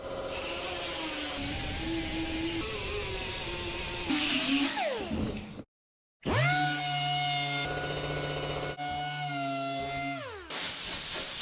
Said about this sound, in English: we'll grind that smooth first